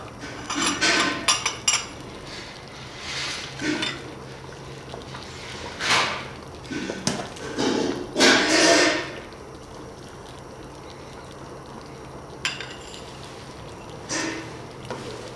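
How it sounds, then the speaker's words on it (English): Ceramic dishes and cutlery clattering in a kitchen as a bowl is grabbed for serving chicken congee, several close, scattered knocks and clinks separated by quieter pauses. "Let's grab a bowl here."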